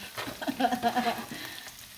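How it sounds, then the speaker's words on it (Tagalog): Onions hit a hot frying pan and sizzle softly and steadily for a couple of seconds while cooking pullet steak, with a faint hum underneath and no talking. "Lagay na natin yung ating overload na sibuyas."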